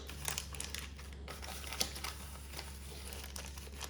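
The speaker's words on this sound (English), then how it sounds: "fold the edges up like this, and then fold the sides up like this" A sheet, likely foil, being folded into a smoker box for wood chips, giving soft intermittent crinkles and crumples over a steady low hum, quiet and close, with no talking.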